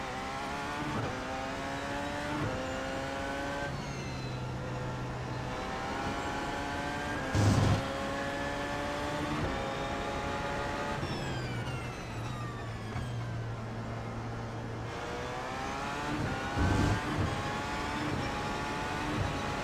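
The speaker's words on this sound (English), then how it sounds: "we'll have 5 probably very brisk laps of Porsche power around Road America" Porsche 919 race car in iRacing at Road America, its engine revving up through the gears again and again, with high whines, sharp downshift blips and brief drops between pulls, loud and continuous with no talk.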